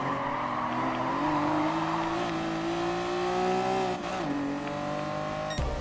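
A Honda NSX Type R races on the Willow Springs streets track in Gran Turismo Sport, its engine wailing close and steady as the pitch climbs, dips near a gear change, then surges again before a sharp click at the end.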